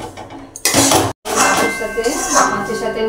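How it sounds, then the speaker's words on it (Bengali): Pan of loitta (Bombay duck) fish curry being covered with a lid, with loud metallic clinks and scraping of cookware in short bursts, a sharp pause, then continued clatter. "সামান্য একটু ঢেকে রাখবো"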